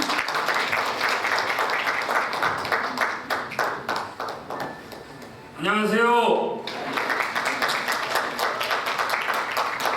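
An audience at a Korean community advisory council inauguration in Atlanta applauds a guest speaker flown in from Chicago, a sustained dense clapping across the room that briefly gives way to a spoken greeting, then swells again.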